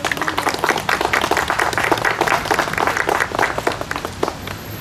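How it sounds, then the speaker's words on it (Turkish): Wedding guests in a municipal building garden applaud the bride and groom at a civil marriage ceremony, a lively, continuous patter of many hands clapping nearby, tapering slightly toward the end. "gelin ve damada bir alkış yapın bakalım"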